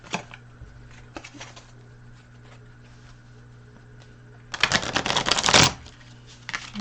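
A brief burst of quick riffling cards, close and fairly loud, after a stretch of faint ticking and low background hum.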